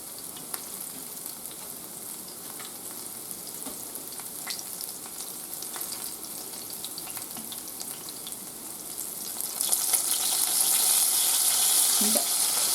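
Pieces of General Tso's chicken sizzle and crackle steadily in a pan over medium heat, close and continuous, the frying growing brighter and louder near the end.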